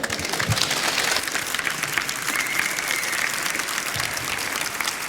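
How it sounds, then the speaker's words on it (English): Audience at a talk on the history of phone phreaking breaks into warm applause, dense and continuous clapping from a crowd filling the room at fairly loud level, a few faint voices mixed in. "Give him a warm applause."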